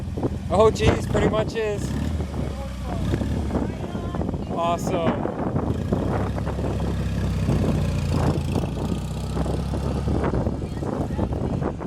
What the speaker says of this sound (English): This sounds like a motorcycle engine.